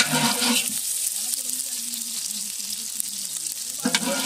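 Chopped onion frying in a pan on a gas stove at a New Year's Eve party, a continuous close sizzle with stirring scrapes. A brief louder clatter comes near the start and again at the end.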